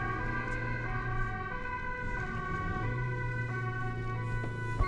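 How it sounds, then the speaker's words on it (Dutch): Ambulance siren wailing steadily in a repeating tone pattern on the way to a road accident between a moped and a car, moderately distant, with no talk. "Ambulance rijdt"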